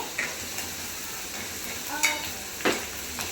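Chole masala being stirred in a pan, heard as a few short, scattered scrapes and clinks over a faint steady sizzle, close by and with no voices.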